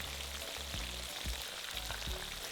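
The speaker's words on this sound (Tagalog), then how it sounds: "Ipiprito ko lang yung isang side ng bangus hanggang sa mag-golden brown na yung kulay." Milkfish (bangus) frying in cooking oil, a quiet continuous sizzle with a few soft pops and spatters.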